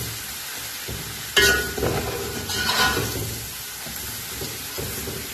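Chinese pulao frying in a pan as mixed spice powder and garam masala are stirred in, with a continuous sizzle broken by louder scraping, stirring bursts; no one speaks.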